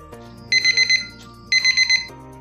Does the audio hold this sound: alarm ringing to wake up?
yes